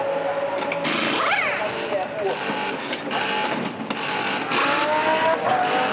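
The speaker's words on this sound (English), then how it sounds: "Slick pit stop as well from the Reiter Engineering team." Loud pit stop at a GT sprint race in Moscow for the Reiter Engineering team, with whirring wheel guns and revving engines under continuous commentary.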